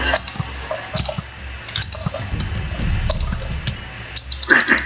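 Water sloshes and splashes softly as a player swims in Minecraft, with scattered dripping clicks and small bursts, steady and fairly close throughout, with no voices.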